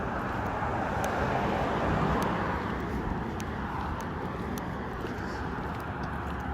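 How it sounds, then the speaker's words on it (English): Road traffic passes in a continuous broadband roar, a steady wash of tire and engine noise with gentle swells as vehicles go by, fairly loud and uninterrupted. "all the cars that you hear driving by are driving by synced"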